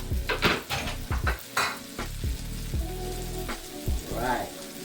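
Green onions sizzle in garlic butter in a pan while being stirred, with loud scraping and clattering of a utensil against the cookware in irregular bursts over a steady frying hiss.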